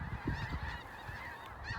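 A flock of geese, blues and Canada geese at a waterfowl feeding field, honking repeatedly in overlapping calls as the birds return, moderately distant and layered over one another.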